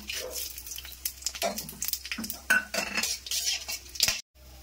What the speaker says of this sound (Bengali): ফোড়নটা দিয়ে দিচ্ছি।